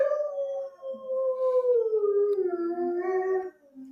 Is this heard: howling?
yes